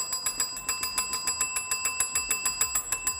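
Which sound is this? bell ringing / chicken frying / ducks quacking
bell ringing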